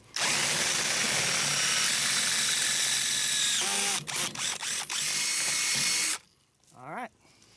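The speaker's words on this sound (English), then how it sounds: "I've got a cordless drill." A cordless drill with a 5/16 inch bit runs steadily at high speed drilling a hole, then gives several short bursts and stops, followed by a brief whirring spin-down.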